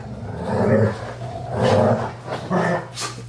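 Deep, rumbling dog growls come in three sustained bursts, loud and close, with short pauses between them.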